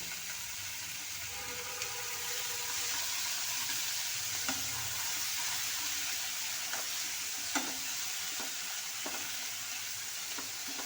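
Mango pieces sizzle steadily in a little pre-heated oil while making a Kerala mixed mango pickle, a continuous hiss at moderate level punctuated by occasional sharp clicks of stirring.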